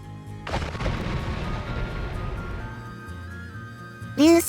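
Firework-like meteor spell explosions burst in the video game Noita, a dense rumbling barrage of booms that thins out over a few seconds before a sharp new burst with a rising tonal whistle at the end.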